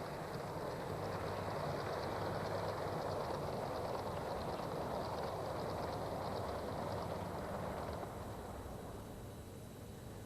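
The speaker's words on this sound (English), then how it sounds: "speeding along on the embankment behind is a Pullman car express hauled by a Southern Railway Merchant" A model railway Pullman car express hauled by a Southern Railway Merchant Navy locomotive speeds along an embankment, giving a steady, continuous rumble and whir that holds level and then eases off slightly near the end.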